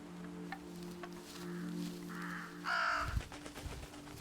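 Ravens caw in the video game Rőki: a single harsh caw rises over a quiet ambient game soundscape with low hums and a few scattered soft clicks, and no one speaks.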